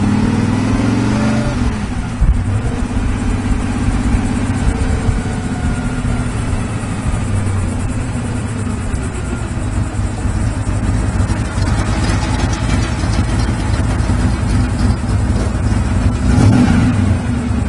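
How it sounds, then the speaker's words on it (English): A 1966 Oldsmobile 442 convertible engine runs steadily and close by, a deep continuous rumble with a brief rev early on, heard alone throughout. "Nice sounding car."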